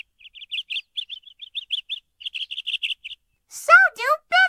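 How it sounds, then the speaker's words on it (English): Small birds chirp in quick, evenly spaced bright tweets, then three louder, sweeping calls ring out close by at the end; no voices are heard. "Little birds make music."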